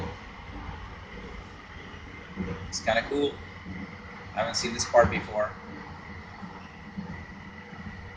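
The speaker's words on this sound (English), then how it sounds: "This is my first time riding this stretch of the train, of the line." Riding aboard a Skytrain Evergreen Line car gives a steady low rolling hum and air-handling drone throughout, with a person speaking briefly over it.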